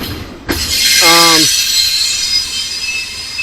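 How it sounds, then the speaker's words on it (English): A sustained high metallic squeal from train wheels fills the clip, with a brief harmonic horn-like tone and steady rumbling rail noise underneath. "Sorry about the train noise."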